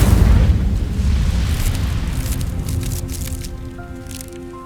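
The Incendio fire spell cast in Hogwarts Legacy, a loud whooshing burst of flame with a crackling roar that slowly fades out as faint tonal game music rises beneath it.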